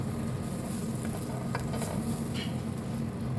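Bananas frying in margarine in a hot Teflon pan, a steady close sizzle with faint stirring and scraping touches, continuous and without speech.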